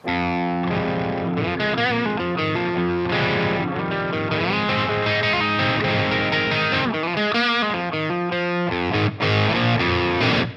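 Distorted electric guitar through a Fortin Kali preamp module with all knobs at noon, playing thick, saturated chords and riffs continuously, loud and close, with no talking.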